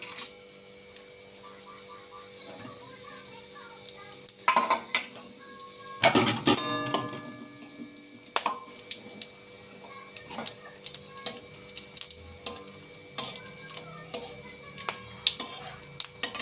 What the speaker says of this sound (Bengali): মশলাটা আমি ভেজে নেব